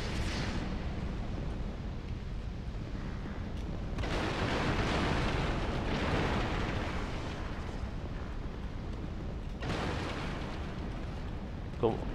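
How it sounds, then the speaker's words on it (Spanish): A huge fiery explosion in Dark Souls 2 bursts twice amid continuous roaring rumble, loud and sustained like an eruption, with low booming body throughout. "Y ahí va a haber una giga explosión."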